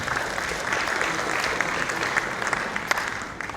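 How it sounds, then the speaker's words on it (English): Audience applause after a drugs and alcohol safety presentation, a thick, continuous roar of many clapping hands at steady loudness, with a few sharper claps near the end. "So huge round of applause for you guys"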